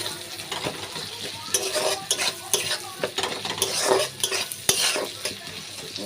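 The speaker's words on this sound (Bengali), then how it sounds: "পেঁয়াজটা ভাজা হয়ে গেল" An onion frying in hot oil in a pan, with steady sizzling and repeated scraping stirs of a utensil against the pan, close and fairly loud, with no talking.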